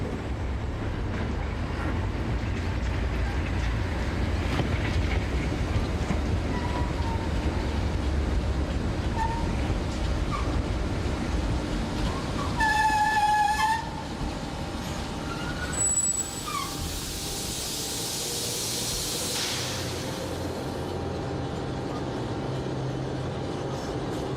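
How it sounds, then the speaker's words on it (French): An SNCF CC 6500 electric locomotive approaching its train of coaches, a steady low rumble of rail noise with a brief tonal squeal midway and a hissing burst of air near the end. "c'est l'une des dernières 6500 qui approche de la rame"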